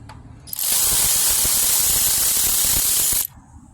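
Lug nuts come off a car wheel during a roadside tire change: a loud burst of rapid ratcheting clatter with a hiss, lasting nearly three seconds, then quiet.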